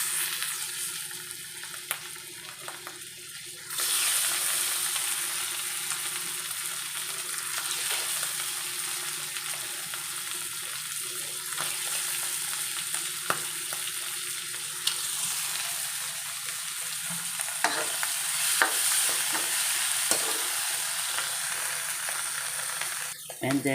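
Mushrooms drop into a pan of frying chicken, and a brief quieter stretch jumps into a loud, sustained sizzle. Occasional stirring clicks sound through the steady hiss.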